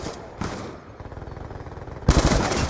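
A light machine gun fires in Call of Duty: Black Ops 2 Gun Game, with a few loud shots followed by a long run of rapid, evenly spaced rounds, then a heavier burst near the end.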